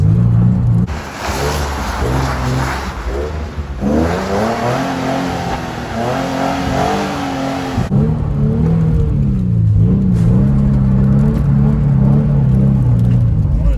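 A Nissan 350Z drifting and doing donuts in snow, its engine revving loudly and continuously in second gear, the pitch rising and falling in long sweeps throughout.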